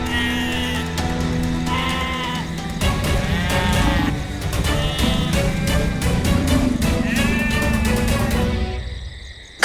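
A goat bleats repeatedly, with wavering cries overlapping over a steady background hum and insect-like chirping, fairly close and loud throughout.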